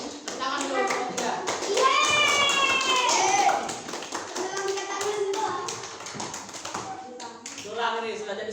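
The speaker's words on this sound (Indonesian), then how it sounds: "Tepuk tangan untuk kelompok 3." Classroom applause from a group of children, a burst of brisk clapping mixed with kids' voices and a teacher talking over the noise.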